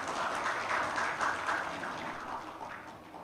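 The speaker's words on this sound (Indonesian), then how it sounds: "Kita berikan aplaus dulu." Steady applause from an audience at the Stunting Heroes Award 2022 ceremony, a dense even patter of clapping sustained throughout and fading slightly at the end.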